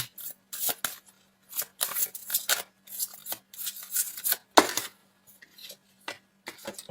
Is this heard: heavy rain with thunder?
no